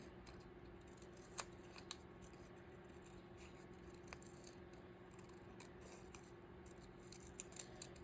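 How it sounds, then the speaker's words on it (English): Scissors trimming excess border off stickers, giving a few faint, sparse snips over a steady low hum in a quiet room. "I'm gonna trim down these stickers just a little bit."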